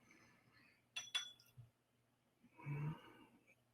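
Bourbon whiskey is poured into a glass: a couple of quick glassy clinks, then a brief splashing pour, quiet and close, with no voices.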